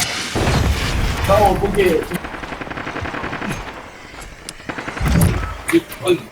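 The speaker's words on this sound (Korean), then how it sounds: "적 정밀 공습이다." Enemy precision airstrike in a shooter video game, heavy booming blasts and rattling gunfire close by, with a player talking over the explosions.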